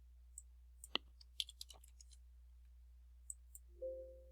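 Computer keyboard typing, a handful of sparse, quiet key clicks spread over a few seconds in a silent room, followed by a faint short tone near the end.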